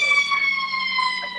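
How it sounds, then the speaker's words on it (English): An ambulance siren passes on a street on Chicago's West Side near a trauma center, a loud steady wailing tone that holds throughout with no talk over it. "there's an ambulance going by"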